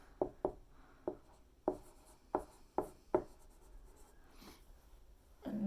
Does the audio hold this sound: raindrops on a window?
no